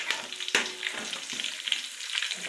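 Curry leaves crackle and spit in hot oil for chicken biryani, a loud burst of sizzling at the moment they drop in, then steady spattering with a few sharp pops.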